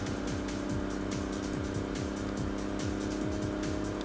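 A racing car in Enthusia brakes hard, its engine note stepping down in repeated falling sweeps beneath a steady, noisy roar over a few seconds.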